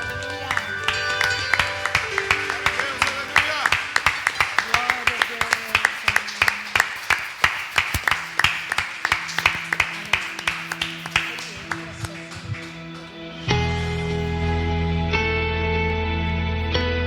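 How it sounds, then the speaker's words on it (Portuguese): A church congregation claps in steady unison during worship, sharp regular beats over music and singing for most of the stretch, then the clapping gives way to sustained music near the end. "aplauda o Senhor."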